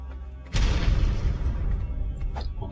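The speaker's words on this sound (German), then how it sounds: "Dann sprengen wir dort hinten das Ding in die Luft" A grenade blows up resources in a canyon in ARK: Survival Evolved, a sudden loud boom that rolls into a long, heavy rumble which slowly fades but stays strong to the end.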